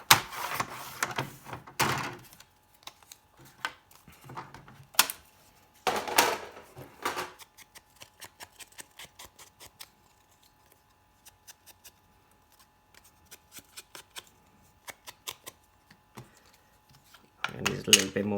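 Card pieces being cut down to 5.5 inches for a handmade wiper card: a few bursts of rough scraping and slicing, then a long run of light, scattered clicks and taps, close by.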